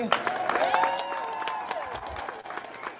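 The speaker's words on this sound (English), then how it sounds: "And they clap for him after that song." Audience applause after a song at a New York performance, a dense steady patter of clapping with some crowd noise and tonal music fading underneath.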